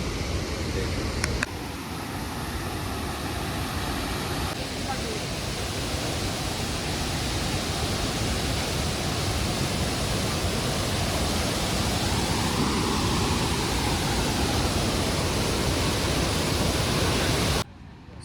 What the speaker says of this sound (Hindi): बस आवाज़ ही आवाज़ है झरने की, खल खल खल खल पानी बह रहा है।